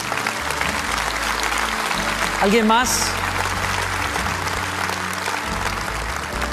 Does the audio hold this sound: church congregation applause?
yes